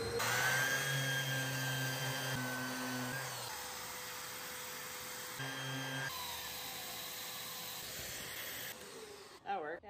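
Power sander working over painted trim, a loud whirring grind that shifts pitch several times as the tool moves and pauses, with brief voices underneath.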